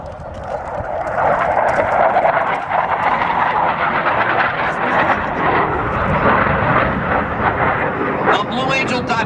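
U.S. Navy Blue Angels jet aircraft roar at the 1997 MCAS El Toro air show, a continuous loud broadband rush of a jet climbing overhead, with an announcer talking over it.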